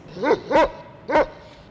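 A dog barks three times close by, short sharp barks with a brief pause before the last one.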